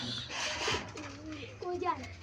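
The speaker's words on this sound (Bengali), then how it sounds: "এখানে আছে ঘুঘু, যেটাকে বিদেশি ঘুঘু বলতে পারি আমরা" A foreign-breed dove kept among pet pigeons gives a brief soft coo, faint and close, with some voices and background noise around it.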